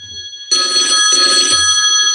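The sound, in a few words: telephone ringing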